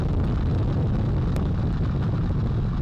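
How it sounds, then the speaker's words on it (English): The Artemis 1 rocket launch, with four RS-25 core-stage engines and two solid rocket boosters, as a continuous, dense, thundering roar that stays loud and unbroken throughout. "4 RS-25 engines on the core stage and 2 solid rocket boosters now propelling the vehicle at 128 miles per hour."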